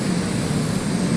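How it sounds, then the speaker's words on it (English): Helicopters fly in during WARNO gameplay, heard as a steady, dense rotor and engine drone that stays loud and continuous without a break. "The helicopters are bringing down our troops."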